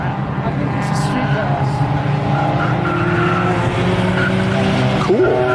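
Race cars lapping the Mid-Ohio track at a GRID LIFE event: loud, sustained exhaust and engine roar, with tire squeal and a rising pitch sweep near the end as a car passes close by, and voices in the background.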